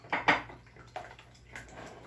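Thick eggnog pours and splashes briefly into a bowl of eggs, with a couple of soft glugs fading into quiet sloshing.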